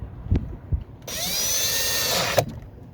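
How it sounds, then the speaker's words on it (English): Power drill driving screws into a screen door hinge: two light knocks, then a steady high whine of the motor running for about a second and a half before cutting off with a clunk. "Get that screwed in with these screws and that drill"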